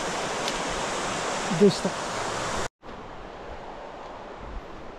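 River near Mammoth Lakes on the Pacific Crest Trail: broad, steady rushing water noise, loud at first, then suddenly cut and resuming quieter, with a brief voice over it.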